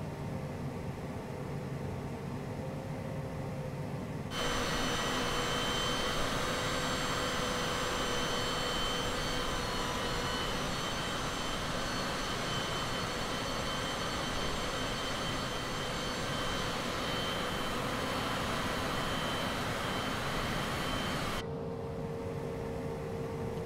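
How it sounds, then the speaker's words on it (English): Cessna Citation CJ4 jet engines in Microsoft Flight Simulator spool up for a rolling takeoff, a sudden surge into a steady loud whine and roar that holds for many seconds, then drops back to a quieter hum. "I would say let's do a rolling takeoff here."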